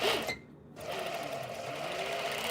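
An electric sewing machine runs in a steady whirring hum while altering clothes, briefly stopping near the start and then resuming, close by with no talking.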